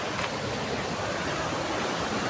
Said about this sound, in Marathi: हे बघा, हे पाणी इथं चालू आहे